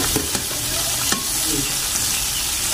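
Vegetables frying in ghee over a low flame, a steady close-up sizzle with a few soft stirring clicks and scrapes.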